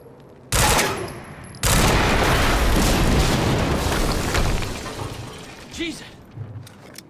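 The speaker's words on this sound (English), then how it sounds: "HQ, we just heard an explosion near the harvesting perimeter" Explosions in the Quantum Break video game: a sharp blast, then a second heavier one that rolls into a long roaring rumble and slowly fades, with a faint trailing clatter.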